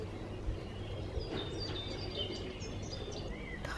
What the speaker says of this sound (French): le bruit des oiseaux, c'est trop bien